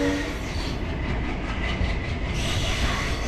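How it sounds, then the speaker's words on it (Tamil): Diesel-hauled passenger train on the Kollam to Sengottai line runs steadily, a continuous close rumble of wheels and carriage noise with rail rattle, no voices. "இந்த ட்ரெயின் வந்து டீசல் இன்ஜின் தான் ஃபுல் பண்ணுது."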